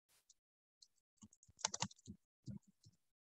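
Typing on a computer keyboard while entering database fields, a quick close burst of light key clicks, a few scattered taps then a denser cluster, quiet and without talk.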